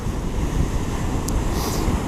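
Steady wind buffeting the microphone with surf rolling in on overcast, windy Pakefield beach in Suffolk, a loud, continuous roar with no voices.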